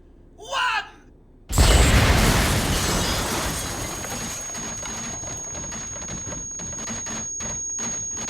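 A large explosion in Batman: Arkham Asylum booms in suddenly after a brief voice, then rumbles and crackles with scattered debris as it slowly fades.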